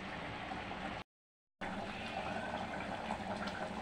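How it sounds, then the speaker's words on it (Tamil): Water is poured into a mixer grinder jar over almonds, cashews, pepper, cumin, fennel, clove, cardamom and cinnamon for a kurma spice paste, a soft close trickle and splash that cuts out briefly and then continues. "அரைச்சிக்கலாம் நைஸாக தண்ணி ஊற்றி."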